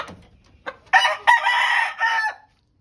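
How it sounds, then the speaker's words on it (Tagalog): A young hen and other chickens being raised for sale call out close by: a few faint clucks, then a loud, drawn-out harmonic call that breaks briefly and resumes for about a second and a half before stopping. "Ito yung ating future hen."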